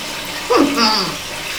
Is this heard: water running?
yes